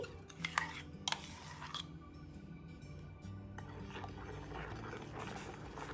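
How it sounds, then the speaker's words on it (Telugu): Milk with almond paste and sugar simmers on a low flame in a pot, making a faint, steady bubbling hiss, with a few light metallic clinks from a spoon stirring near the start. "లో ఫ్లేమ్లో పెట్టుకుని అడుగంటకుండా ఇలా తిప్పుకుంటూ పాలని కాగనివ్వండి."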